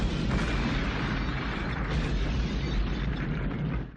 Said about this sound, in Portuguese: terminando com Eric, o protagonista infantil, batendo as botas em uma terrível explosão em um posto de gasolina